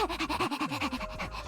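A game character imitating a dog with her voice, a rapid run of breathy panting yips and whimpers, close and fairly loud, with no other talk.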